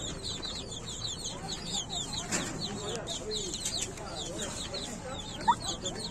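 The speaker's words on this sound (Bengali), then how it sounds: "এই যে টার্কি মুরগি" Turkeys kept in a yard give repeated high, chattering calls and clucks at a moderate distance, a dense busy flock sound with a few sharper notes breaking through.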